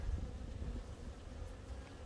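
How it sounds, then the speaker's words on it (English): Low, steady droning buzz of many honeybees clustered close by inside a hive, a soft continuous hum with no talking. "a really good cluster of bees right there"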